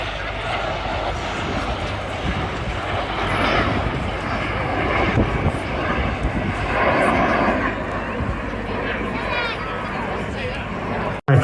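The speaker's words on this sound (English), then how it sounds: "aircraft, the Strike Master." BAC Strikemaster jets flying in formation at the Eastbourne Airshow: a broad, sustained jet-engine roar that swells and fades as they pass, with a commentator's voice running over it and crowd noise beneath.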